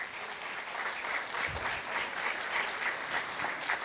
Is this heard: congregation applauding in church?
yes